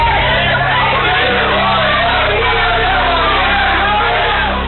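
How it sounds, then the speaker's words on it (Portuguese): Protesters booing, shouting and yelling in a city council chamber in Piraí, a loud, steady wall of crowd noise with overlapping voices and no break throughout. "Houve tumulto e a sessão na Câmara foi suspensa sob vaias."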